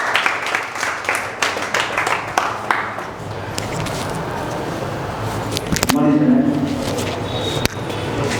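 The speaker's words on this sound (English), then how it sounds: "Claps for Prabhu." Clapping from a student audience at a Republic Day quiz program, a brief patter of applause at the start that fades under speaking voices and room noise.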